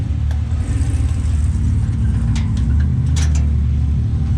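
Engine of a Can-Am off-road vehicle running loud and close, a steady low rumbling idle with pulsing throb, plus a few brief clicks and clanks over it.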